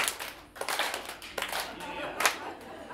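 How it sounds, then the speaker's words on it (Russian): An audience claps along with a conductor at a children's Christmas classical concert, a scattered series of hand claps that starts ragged and loose and swells slightly toward the end, fairly close and moderately loud. "И 4 хлопка вместе со мной."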